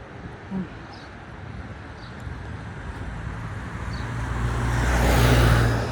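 Steady roar of traffic on a busy road heard from the roadside, with a low rumble that grows louder toward the end as a vehicle draws near.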